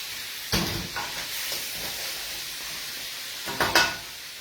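Blue crabs hit a hot wok with a chilli sauce, giving short bursts of sizzling and hissing as they are tossed, separated by quieter stretches of low sizzle and clatter.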